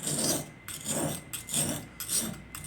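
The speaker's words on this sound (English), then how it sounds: "On a stone like this, on the coarse side like this, I'm using the coarse side" A knife blade drawn across the coarse side of a sharpening stone, giving rhythmic, gritty rasping strokes, four passes with brief pauses between them, close and fairly quiet.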